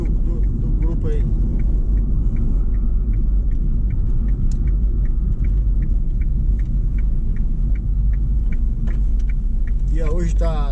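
A steady, loud low rumble fills a car's interior as it drives in a convoy of cars on a highway toward São Paulo, with faint regular ticking and a voice in the cabin.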